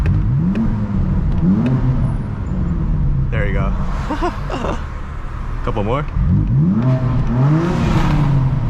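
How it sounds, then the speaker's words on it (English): A BMW M4 CS engine revs close and loud in rising and falling sweeps, echoing inside a tunnel, with someone talking briefly between the revs. "now that we're in the tunnel, let me give you guys a quick sound"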